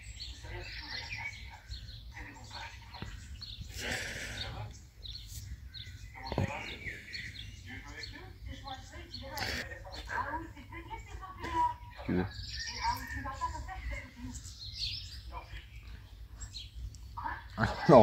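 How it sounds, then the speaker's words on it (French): Birds chirp and call repeatedly through an evening outdoors, with bright twittering scattered across the whole stretch, near and clear, while someone talks at intervals. "Les oiseaux sont de sortie ce soir."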